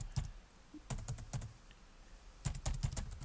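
Typing on a computer keyboard while coding in Visual Studio, two short bursts of close, crisp key clicks separated by a brief quiet gap.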